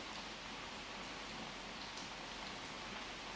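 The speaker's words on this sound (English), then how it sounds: "That sound in the background is the rain" Steady rain falls outside after weeks of dry weather, a dense continuous hiss of drops that stays even throughout and sits in the background.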